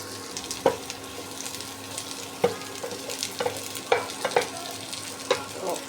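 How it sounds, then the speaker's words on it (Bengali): Beetroot bharta ingredients fry gently in a pan over low heat, a soft continuous sizzle broken by sharp scraping stirs of a spatula at irregular intervals. "এখন একটু ভালোভাবে আর কি ভেজে নেব এই তো হাই হিটে একদম ভাজা যাবে না"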